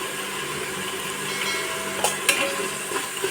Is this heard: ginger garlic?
yes